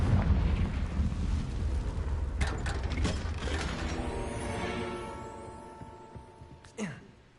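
Confringo spell explosion in the video game Hogwarts Legacy: a loud burst with rumbling low end and crackling debris, fading over several seconds, followed by a short whooshing effect near the end.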